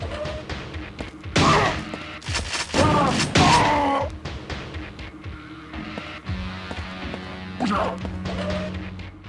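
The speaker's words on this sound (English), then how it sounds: "sound effects such as your weapons and enemy voices cut in and out" Quake 2 running under Bleemcast emulation on a Sega Dreamcast, with weapon fire and enemy voice effects cutting in and out over continuous game music, in a chaotic mix of thuds, crashes and groans.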